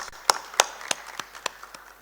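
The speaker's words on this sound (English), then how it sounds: "please join me in giving our esteemed dignitaries the best cordial welcome with a big round of applause" At a national conference session, an audience welcomes dignitaries with a handful of sharp, separate hand claps spaced irregularly across two seconds. The claps are moderately close and come without any sustained wash of applause.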